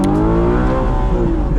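Audi R8 engine revving hard at a hypercar event, steady loud harmonic roar that climbs and dips briefly as the gear changes, close and continuous with no talk.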